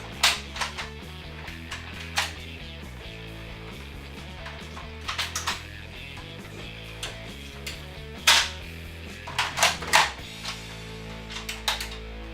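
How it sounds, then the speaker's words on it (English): A toy foam blaster fires in scattered sharp snaps and clicks, some in quick clusters, set against steady background music. "Shoot Spock in the eye"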